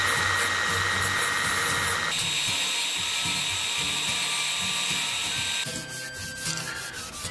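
Abrasive sanding on a brass guard cut from a door kick plate for a machete-turned-naval-cutlass, a loud steady rubbing grind with a harsh metallic whine that shifts pitch partway through, no talking.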